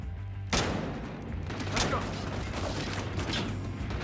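Gunfire in the video game Battlefield Hardline: sustained bursts of shooting and crackling impacts over a steady low engine-like hum, with a sharp shot near the start and repeated reports throughout.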